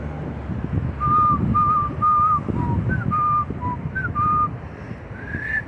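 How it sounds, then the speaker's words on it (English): A person whistles a tune outdoors on a walk in Florence, clear notes moving up and down in a short melody over a rumbling background of wind and movement. "I can't get the whistle up into that octave or whatever."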